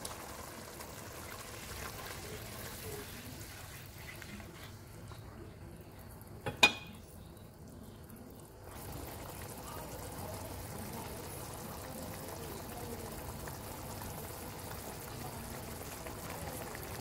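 Dissolved tamarind water pours into a fenugreek seed gravy, a soft, steady liquid stream over a low simmering hiss, broken midway by a short hush and a single sharp clink.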